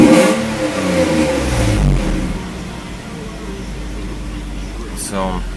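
A Mercedes 190E SportLine with a swapped 3.2L M104 engine and a slight exhaust leak revs quickly from idle, its loud engine tone rising and falling close by while someone talks over it.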